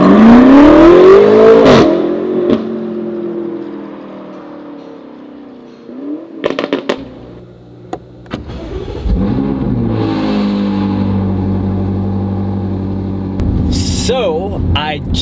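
A 2019 BMW M5 Competition fitted with Armytrix downpipes revs hard, the engine note climbing then cutting off, followed by quieter blips and a steady loud idle rumble, with people talking nearby.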